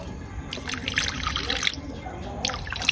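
Plain water pours and trickles into a container while a drink is being mixed, a soft, fairly faint splashing stream with small drips.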